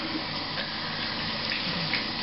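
Water runs steadily from a tap into a sink, a constant close splashing rush with no voices.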